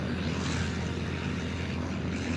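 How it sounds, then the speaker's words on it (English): Small propeller planes hanging from a trapeze beneath a military airship, engines revving in a steady, dense drone that stays loud and even for the whole short stretch. "the tiny planes would rev their engines as they hung from a metal bar called the trapeze"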